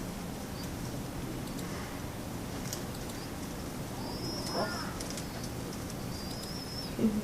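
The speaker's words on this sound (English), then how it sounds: "We can hear the baby pigeons." Baby pigeons make faint, soft cooing and squeaky calls at a distance over a steady background hiss, with no one talking.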